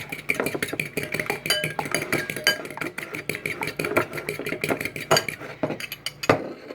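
Whisking beaten eggs in a bowl: a busy run of rapid metallic clinks and scrapes against the bowl, steady and close throughout with no talk.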